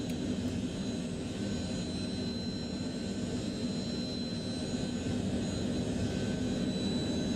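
A Lockheed JetStar jet engine runs in a flight simulator game, a steady whining turbine drone with high thin tones over a low rumble, constant and unbroken, with no talk.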